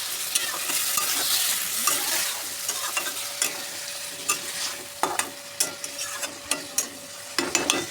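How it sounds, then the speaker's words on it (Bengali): Potatoes and eggs stirred and fried in a spice masala with green chilies, a steady close sizzle broken by repeated sharp scraping strokes of a spatula against the pan, with no talking. "এই মশলার ভিতরে একবারে আলু আর ডিম দিয়ে দেবো পুরো।"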